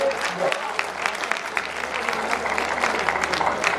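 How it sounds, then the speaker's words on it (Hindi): A large audience at a Hindi kavi sammelan poetry gathering during Gorakhpur Mahotsav 2021 breaks into loud, sustained applause, a dense steady clatter of many hands with a voice briefly heard underneath. "एक बार जोरदार तालियां बजा करके"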